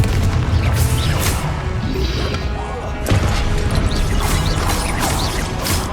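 Confringo blast spells cast in the Hogwarts Legacy video game: a dense run of crashing, booming impacts and clattering effects over a continuous loud game soundscape, with sharper hits recurring throughout.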